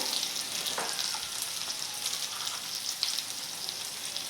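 Potatoes and onions fry in a pan with a pinch of turmeric, giving a steady close sizzle with a few soft stirring scrapes and no voices.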